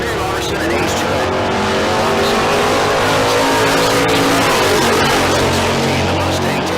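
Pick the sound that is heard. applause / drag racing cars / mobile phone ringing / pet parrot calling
drag racing cars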